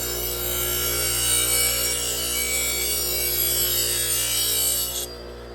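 A Foley Belsaw 1055 Sharp All machine sharpens a curved knife blade with a steady, even grinding hum and a high rasping edge. It runs continuously and close up, then stops abruptly near the end. No voices.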